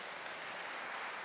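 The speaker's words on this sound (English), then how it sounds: "Give me a round of applause for that." Audience applause at a religious gathering led by someone speaker, a steady dense wash of clapping throughout with no speech over it, fairly faint and distant.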